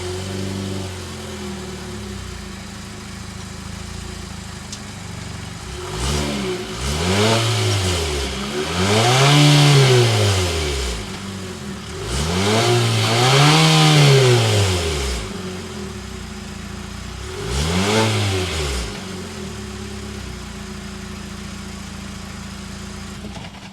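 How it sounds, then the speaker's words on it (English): A 2022 Infiniti QX50 turbocharged engine idles, then revs four times in swelling bursts, its exhaust note rising and falling before settling back to a steady idle. "start it up, so you can hear that exhaust note"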